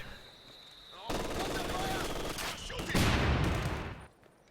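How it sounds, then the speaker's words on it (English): An MG42 machine gun fires in a multiplayer video game, loosing a sustained rattling burst that swells louder near the end before cutting off, with faint game ambience around it. "MG42's shutting that down."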